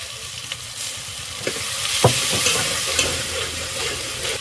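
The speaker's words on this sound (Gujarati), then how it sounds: "હવે આને હલાવી નાખીએ થોડુંક પાણી નાખવું પડશે એટલે મરચું બળે નહીં" Chili spice masala frying and being stirred in a pan, a steady close sizzle with scraping stir strokes and a few sharper clinks, with no talk.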